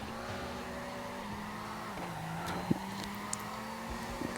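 Engine drone with tyre squeal from a car drifting around a tight corner in the mobile racing game CarX Drift Racing, a steady revving hum with brief sharper skid chirps and no talking.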